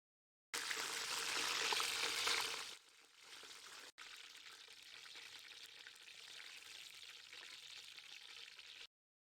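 Loud crackling of a tarantula frying in hot oil, dropping to a quieter, steady bubbling sizzle after a few seconds.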